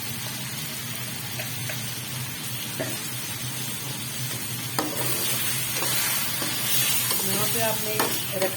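Ginger garlic paste sizzles with onions in a pot for chicken biryani, a constant close frying hiss broken by scraping stirs and a few spoon knocks against the pot.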